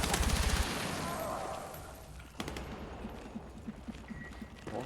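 Gunfire in the video game Battlefield 6: a rapid burst of automatic fire up front, then scattered sharp shots and impacts in a noisy battle, loud and close.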